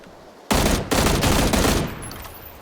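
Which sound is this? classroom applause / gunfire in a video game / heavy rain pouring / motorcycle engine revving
gunfire in a video game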